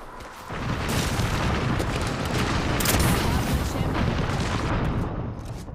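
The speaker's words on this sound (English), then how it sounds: "All you hear is just one massive shot." A heavy Havoc energy rifle firing in the Apex Legends game: a loud, dense burst of booming gunfire sustained for several seconds, up close, before easing off.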